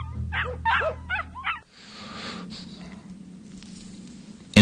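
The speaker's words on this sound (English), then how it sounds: "But the dogs were aware. They took refuge in a narrow space beneath the lodge, and he could hear them cowering and whimpering below." Dogs sheltering in a narrow space beneath a lodge give several high, close whimpers and yips, followed by quiet rustling ambience and a sudden loud thump at the end.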